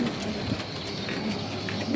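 A high-flyer pigeon with orange and yellow coloring cooing in a loft, low soft coos repeating close by against a steady background hum.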